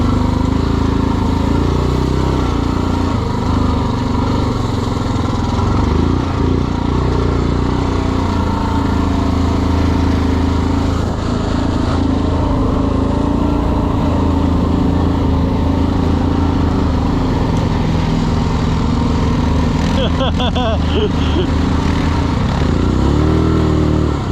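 A loud small ATV engine drones continuously at close range in swampy ground, holding a steady throttle with slight surges and a brief mechanical rattle near the end.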